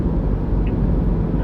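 A police air unit helicopter flies overhead at night in Los Angeles, heard as a steady, loud, low rotor and engine drone that holds evenly throughout with no voices.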